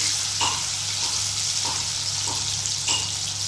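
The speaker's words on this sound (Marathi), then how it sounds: "थोडंसं हळद टाकली आहे मीठ टाकून पनीर फ्राय करून घेतले आहे" Paneer pieces frying in a pan with salt and a little turmeric give a steady close sizzle, with a few soft clinks of stirring spaced through it.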